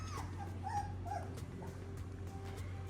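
A doodle puppy, a little girl, whimpers and yips in a few short, high, thin bursts, close but soft over a low steady background hum, with no one talking.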